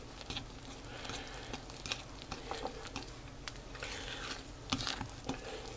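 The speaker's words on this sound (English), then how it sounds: "I'm going to stir that in." Cinnamon goes into pancake batter and gets stirred by hand at close range. Soft, quiet scrapes and taps repeat in an uneven rhythm, with no talking.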